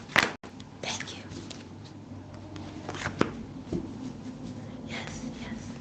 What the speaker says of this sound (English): I'm going to do 3 shuffles, okay?